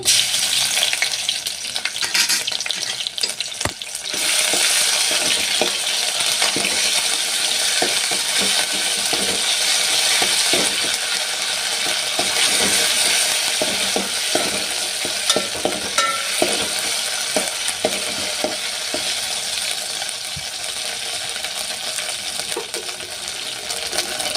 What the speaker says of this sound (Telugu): రెండు పచ్చిమిర్చి ఫ్రై చేసుకోవాలి